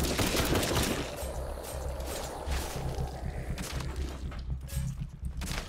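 Rapid bursts of automatic gunfire from the zombie survival video game Night of the Dead, loud and dense at first, then continuing as a steady stream of shots over a low rumbling game soundscape.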